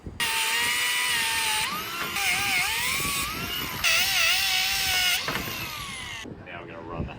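A power tool cuts through old, damaged steel wire ropes aboard a prawn trawler, a loud continuous whine rising and dipping in pitch over several seconds, with harsh mechanical noise underneath.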